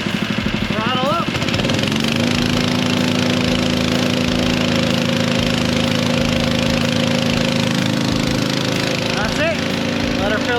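An engine on a snow plowing rig throttles up after a valve is opened, rising from a rough idle into a loud, steady high drone close by, with someone talking briefly at the start.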